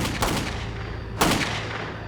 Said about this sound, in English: a quiet night echoes with gunshots